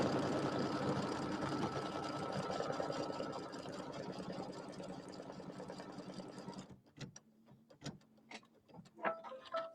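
A home embroidery sewing machine stitching a pillow design, a steady fast mechanical chatter for several seconds that stops abruptly, followed by scattered clicks and taps nearby.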